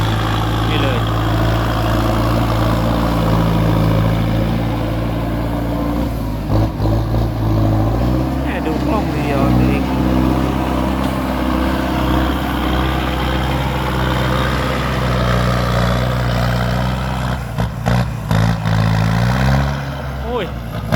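A tractor engine idles loudly and continuously nearby, a low steady rumble with occasional clunks and shifts in pitch.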